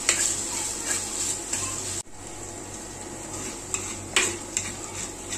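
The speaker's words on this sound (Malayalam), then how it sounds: "ഒരല്പം ഉപ്പം കൂടെ ചേർത്ത് കൊടുക്കാം, പെട്ടെന്ന് വഴന്നു വരാൻ വേണ്ടി. എന്നിട്ട് നല്ലപോലെ ഇളക്കി വഴറ്റി കൊടുക്കാം." A spoon stirs onions, shallots and capsicum sautéing with a little salt in a pan for a Kerala bone curry. Close, steady scraping and metallic clinking continue throughout, with one sharp knock midway.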